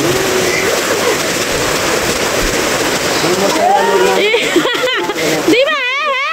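Rain splashes down in a dense, steady hiss throughout, with a person speaking over it near the end.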